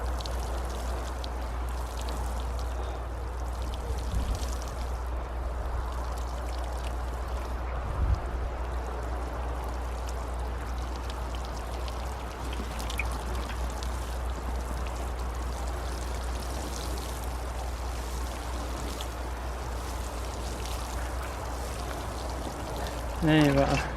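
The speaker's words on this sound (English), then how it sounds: "So we'll water them in." Steady pouring and splashing of water onto dry compost, soil and plant leaves in a garden for a long stretch, with a few faint knocks along the way.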